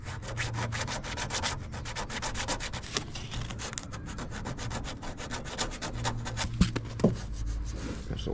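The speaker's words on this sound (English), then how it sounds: "Yep, so that's sanded out." Rapid, continuous rasping strokes of sandpaper on a fibreglass Greddy Gracer style front bumper for a 1992 Nissan 300ZX Z32, heard up close and fairly even, with a few sharper scrapes near the end.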